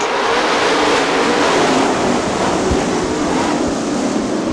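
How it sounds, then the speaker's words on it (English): Sprint cars roar off at the green flag start of an IRA race at Fremont Speedway, a dense, loud wall of engine noise from the pack with no clear gaps, heard continuously throughout. "Green flag is out for Joe Rowe."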